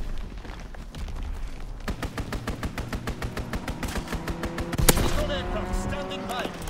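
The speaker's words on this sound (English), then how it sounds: "Strafing run inbound." Strafing-run gunfire in Call of Duty: WWII, a long rapid string of evenly spaced shots hammering for several seconds with a heavy thud near the end, set over battlefield rumble.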